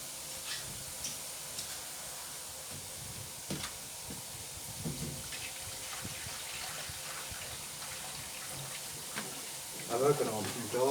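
An Indesit washing machine being overfilled with water, giving a steady rushing, splashing flow throughout with faint background noise and a louder gush near the end.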